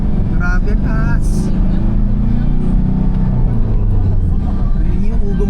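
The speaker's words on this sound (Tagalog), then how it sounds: "Rinig nyo yung ugong ng makina." A car engine drones steadily and loudly while climbing a steep road on a trip to Hinugtan Beach, a constant low hum lasting throughout with faint voices over it.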